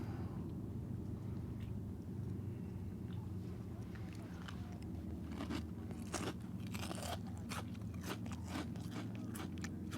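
Funyuns onion-flavored rings crunched while eating outdoors on a hiking and camping trip. Sharp, close bites and crackles come in a quick cluster during the second half, over a steady low background hum.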